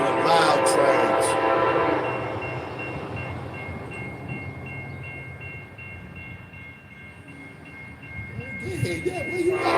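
A loud train passes a street in Garner, North Carolina, its broad rumble strongest at the start, easing through the middle and swelling again near the end, with a few steady horn-like tones.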